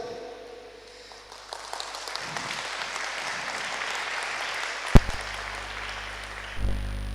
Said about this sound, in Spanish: ¿Puede dar un aplauso al Señor por eso?